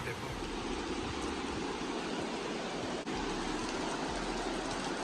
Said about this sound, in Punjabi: ਪਾਣੀ ਬਹੁਤ ਜ਼ਿਆਦਾ ਵੱਧ ਗਿਆ ਹੈਗਾ, ਕਿਉਂਕਿ ਕੱਲ ਦਾ ਮੀਂਹ ਪਈ ਜਾਂਦਾ ਇੱਥੇ